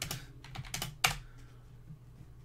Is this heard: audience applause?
no